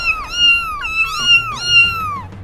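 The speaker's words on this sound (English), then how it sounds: "Here are some kittens." Several kittens meow in quick succession, high rising-and-falling cries overlapping close by, with three or four distinct calls over a couple of seconds and no talking.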